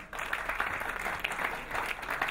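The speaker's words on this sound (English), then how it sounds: "So big round of applause for him." A crowd claps steadily, a dense patter of applause at moderate distance, with no voices over it.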